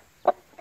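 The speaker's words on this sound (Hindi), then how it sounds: "और ये अब मैंने दूसरा मुर्गा पकड़ लिया," An Asil rooster, black, held in the hands in the early morning, gives one short close cluck followed by a fainter second cluck.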